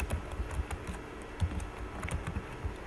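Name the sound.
typing on a computer keyboard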